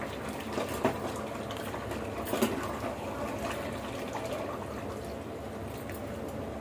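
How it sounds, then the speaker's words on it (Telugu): Drinking water poured into a glass or cup during a spicy meal: a soft, steady liquid stream with two brief louder splashes near the start, close by and alone. "నాకు వాటర్ పోసుకుందామండి."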